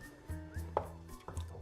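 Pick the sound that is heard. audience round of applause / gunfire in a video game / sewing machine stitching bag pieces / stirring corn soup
stirring corn soup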